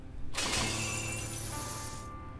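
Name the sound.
chains shattering, video game effect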